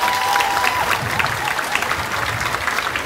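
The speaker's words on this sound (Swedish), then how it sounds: "Stor applåd till alla deltagande skolor." Audience applause for the participating schools at a school cube exhibition, dense continuous clapping filling the room at a steady level, with a faint crowd murmur underneath.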